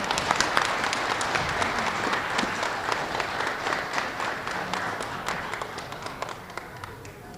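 A school assembly crowd applauds third grade students of the month, steady dense clapping with a few sharper claps standing out, sustained throughout at moderate loudness and tapering slightly at the end.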